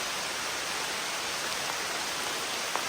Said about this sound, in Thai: ไม่เป็นไรนะพี่ฝนตก